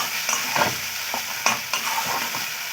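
Pointed gourd stir-fries in a pan with sesame and peanut paste, a soft steady sizzle broken by close scraping stirs of a spatula at an irregular rhythm.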